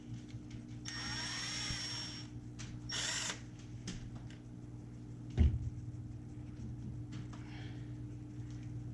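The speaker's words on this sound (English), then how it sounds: "You're going to take this hex bolt out" A power driver whirs in two short bursts backing out a 3mm hex bolt on an Arrma Kraton 8S RC truck, followed by a sharp clack of parts being handled and a few quieter taps over a low steady hum.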